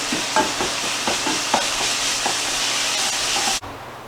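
Ground meat browns in a pan, sizzling and crackling steadily with a constant hiss and occasional spatula stirs, then cuts off abruptly near the end.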